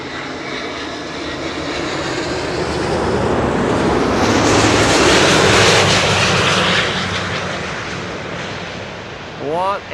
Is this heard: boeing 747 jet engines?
yes